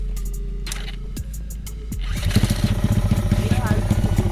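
A Vespa scooter engine, jump-started, cranks and catches, then settles into a loud, steady, sputtering idle close by.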